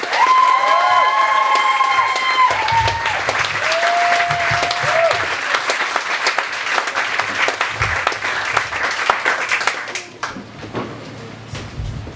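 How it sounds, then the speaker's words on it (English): A comedy club audience bursts into loud applause with scattered whoops and cheers as the next act is introduced, the dense clapping holding steady for about ten seconds before thinning out and fading. "Go wild. That means clapping."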